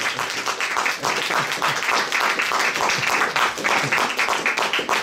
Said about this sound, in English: Give a brother another round of applause.